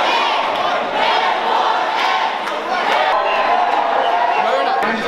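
Large crowd of protesting teachers chanting and shouting inside a legislative building, a loud, dense, continuous roar of many voices with rhythmic swells and echoing hall reverberation.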